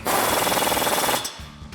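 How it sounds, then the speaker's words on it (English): A 1/2-inch impact wrench with a 36mm socket hammers rapidly for just over a second while tightening an axle nut on a 2009-2018 RAM 1500, then stops with a short clunk, loud and close. "we'll grab our 1/2" impact and 36mm socket, tighten down our axle nut."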